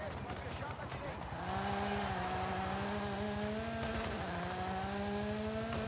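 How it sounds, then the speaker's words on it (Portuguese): In Forza Horizon 5 rally expansion gameplay, a car with a manual gearbox holds a steady, droning engine note. Its pitch rises slightly, then levels off, with a brief shift partway through. "Olha o som desse carro, velho."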